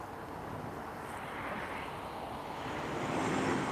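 An airplane landing at Lisbon Airport at sunset, heard as a broad steady engine roar with wind that swells slightly louder toward the end, distant and continuous.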